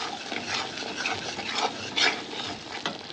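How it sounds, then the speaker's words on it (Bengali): Spices sauté in a pan for a Bengali-style yam kofta curry, a steady soft sizzle under repeated scraping and stirring strokes, close and moderately loud with no talking. "এবার এটা ভালো করে কষতে দেবো"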